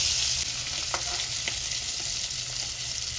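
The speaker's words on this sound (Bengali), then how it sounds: "তেলটা গরম হয়ে গেছে, মাছগুলো দিয়ে দিচ্ছি।" Katla fish fry in hot mustard oil, a steady, fairly soft sizzle with a few faint clicks and pops, heard up close and without talk.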